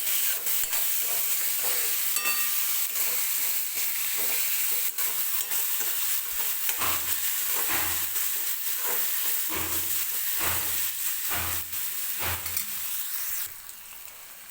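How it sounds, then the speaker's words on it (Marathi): Finely chopped tomato fries with onion in a pan, giving a dense continuous sizzle and hiss broken by frequent stirring scrapes and knocks of the spoon, close up, easing off near the end. "टोमॅटो पण अगदी मऊ होईपर्यंत भाजून घ्यायचं आहे."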